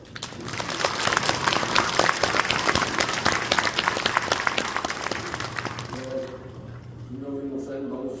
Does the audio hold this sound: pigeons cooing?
no